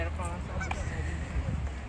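Ducks honking and quacking a short way off, intermittent calls over steady outdoor background with people talking nearby at a park picnic with paddle boats in Canada.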